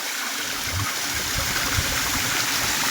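Clear spring water in Kanyakumari flows and trickles steadily, a close, continuous rushing wash with soft gurgles and no talk.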